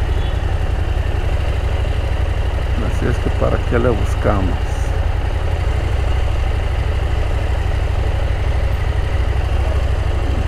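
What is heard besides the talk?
motorcycle engine idling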